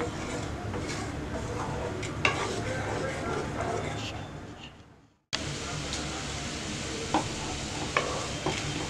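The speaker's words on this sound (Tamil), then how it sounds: "நல்லா கலந்து விட்டுட்டே இருங்க." Grape jam being stirred in a cooking pan, a steady scraping and bubbling texture at close range that drops away briefly midway and then resumes with occasional sharper knocks.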